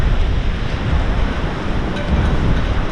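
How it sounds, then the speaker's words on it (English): Strong wind of 20 to 30 miles per hour blows steadily across a snowy yard, a loud broadband roar buffeting the microphone throughout with no pauses. "the wind is really, really strong, and 20-30 mile an hour winds right now"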